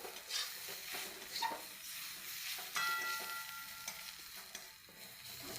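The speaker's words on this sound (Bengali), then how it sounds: "হলুদ দিয়ে আর একটু ভালো করে ভেজে নেব" Onions frying with turmeric in a pan, a steady soft sizzle with occasional stirring scrapes, fairly quiet and close throughout.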